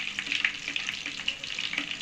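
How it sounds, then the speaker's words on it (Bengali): Apple jalebi fry slowly in a pan of oil, a close, even crackling sizzle with soft bubbling pops and no voices. "জিলিপিটা কিন্তু একটু সময় নিয়ে ভাজতে হবে"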